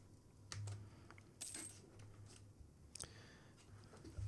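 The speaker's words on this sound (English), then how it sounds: "My cat's next to me attacking a paper bag and making far too much noise" A pet cat attacks a paper bag nearby, making sporadic crinkling rustles and sharp papery crackles in bursts against a low steady hum, with no one talking.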